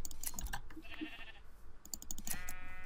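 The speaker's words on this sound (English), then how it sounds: "I love the new snipping sound." Shears snipping wool off a sheep in Minecraft, with a few crisp clicks and short bleats over a steady game background, close and clear, no talking.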